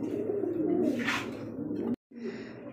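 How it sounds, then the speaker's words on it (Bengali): A pair of pure white pigeons coo close by in a steady, low murmuring run that breaks off briefly near the end and then resumes, with no one speaking. "তো দর্শক দেখতে পাচ্ছি আরেক জোড়া কবুতর হোয়াইট কালারের মধ্যে একদমই ধবধবে সাদা"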